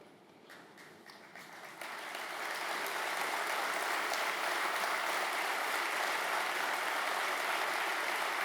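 An audience at a political party convention in Grenoble breaks into applause that starts with scattered claps and swells within a couple of seconds into steady, full clapping that continues to the end.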